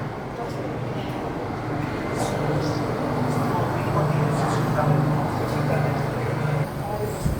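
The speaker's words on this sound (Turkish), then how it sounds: "Size treni de göstereyim. Normal banyo treni." A commuter train at the station in Aranjuez, Spain, gives a steady low rumble and hum, with a few brief higher squeals and clanks over it. The sound holds fairly even and close.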